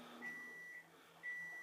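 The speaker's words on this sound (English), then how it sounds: "at least we know that's a microwave" A microwave oven beeps in two long, steady tones, the first lasting about half a second and the second following after a short gap, clear against a faint room hum.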